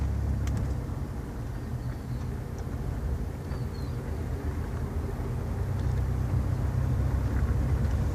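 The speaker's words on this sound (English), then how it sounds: "One thing I look for when I drive a vehicle, I give it a hard turn to the right." A handicap-accessible Dodge Caravan van drives through a hard right turn, its steady engine and road rumble heard from inside the cabin as a constant loud low drone.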